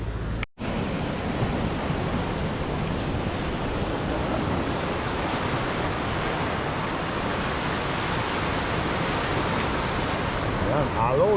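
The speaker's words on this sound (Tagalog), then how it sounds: "Ayan, alon." Ocean surf rolling at Bukana sea, with a steady roar of waves and strong wind rumble against the microphone and a brief cutout near the start.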